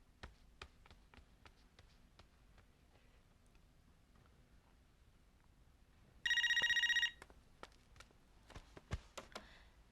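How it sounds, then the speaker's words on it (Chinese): A telephone rings with one short electronic burst of trilling tone, set among soft scattered ticks and taps in a quiet indoor room. "唐潘，你的电话"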